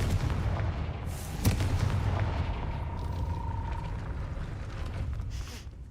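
Blasting-spell explosion in Hogwarts Legacy, a deep booming blast with a sharp crack followed by a long rumbling tail over low ambient noise.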